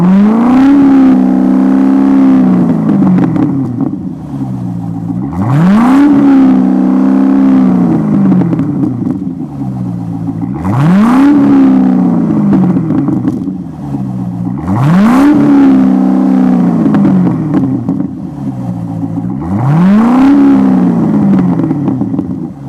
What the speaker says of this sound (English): now we'll rev it up a little bit and see what kind of sound we get out of it